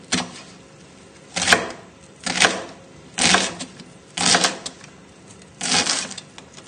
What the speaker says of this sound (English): We're just going to finely chop the onion.